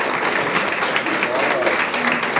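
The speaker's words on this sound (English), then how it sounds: "Everybody give him a round of applause" A round of applause from attendees at a Minneapolis community meeting on public safety, loud, close, continuous clapping with no pauses.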